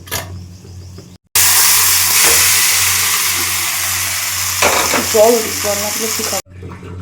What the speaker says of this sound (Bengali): চলো এবার এটাকে চাপা দিয়ে কষাতে থাকি